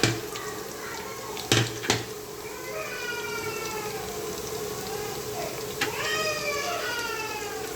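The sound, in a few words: a child crying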